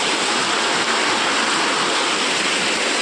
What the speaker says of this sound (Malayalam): ഇതെൻ്റെ ഇവിടെ ഭയങ്കര മഴയെന്ന് പറഞ്ഞാൽ ഭയങ്കര മഴയുണ്ട്